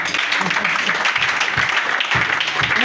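A church congregation applauds to acclaim Jesus, a dense, continuous wash of clapping with voices calling out beneath it.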